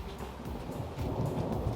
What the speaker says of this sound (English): we were having a thunderstorm